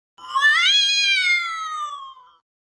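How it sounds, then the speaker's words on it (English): A cat gives one long, drawn-out cry that rises and then slowly falls, sounding eerily like a wailing baby, loud and close, with no other sound around it. "hearing noises of cats crying that sound like babies"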